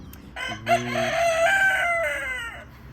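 A rooster crows nearby in one long drawn-out call, with a bit of chicken clucking around it, loud and clear with no talking.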